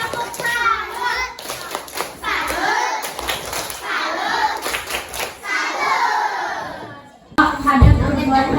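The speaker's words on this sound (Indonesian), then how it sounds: "Bertepuk salut dulu untuk Delima." Second-grade schoolchildren in a classroom at SDN Kuin Utara 7 in Banjarmasin perform a rhythmic praise clap, sharp group claps punctuating their lively chanting voices, ending in a louder burst of clapping.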